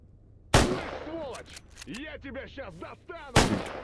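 Monolith soldiers open fire in STALKER GAMMA, with two sharp, loud gunshots about three seconds apart and scattered shorter bangs between them, over a low background rumble.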